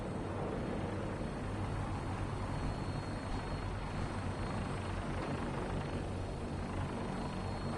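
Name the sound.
gunship aircraft engine in Fallout 4 video game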